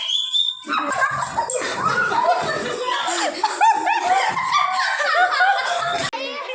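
A dog barks and yips amid lively human chatter and laughter, the barks mixed in with overlapping voices throughout.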